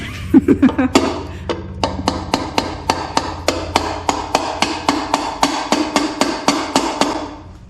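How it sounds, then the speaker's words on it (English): Steady metallic hammer blows, about twenty sharp strikes in an even rhythm, loud and close, as seals are hammered into a 6.0 LS engine cover, after a brief clatter at the start. "I put it on there upside down so I could hammer the seals in."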